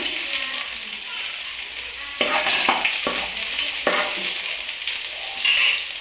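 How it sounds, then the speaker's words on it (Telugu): Chopped garlic hits hot oil in a pan for veg Manchurian, giving a steady loud sizzle and frying hiss that swells with a few bursts as it is stirred. "నూనె ఎడెక్కింది కదండి ఇగో ఎల్లిపాయలు తరిగి పెట్టుకుని ఎల్లిపాయలు వేస్తున్నాను"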